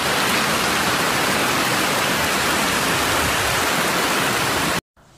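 Floodwater from an overflowing river in Sukabumi rushes in a loud, unbroken roar, close and constant, before cutting off abruptly near the end.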